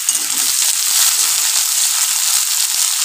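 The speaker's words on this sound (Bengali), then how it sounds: "এটাকে একটু লাল করে ভাজবো।" Chopped onion fries in hot oil in a pan, giving a continuous bright sizzling hiss with faint stirring scrapes underneath, close and steady.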